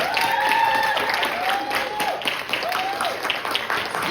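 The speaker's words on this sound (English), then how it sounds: "can the parents of these wonderful kids stand up so we can applaud you" A crowd at a youth bike awards night applauds the standing parents, with dense, steady clapping throughout and a few faint whistles or voices rising above it.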